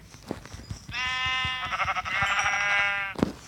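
A sheep in the Minecraft video game gives a loud, sustained bleat lasting about two seconds, preceded and followed by soft footstep-like taps and a short thud at the end.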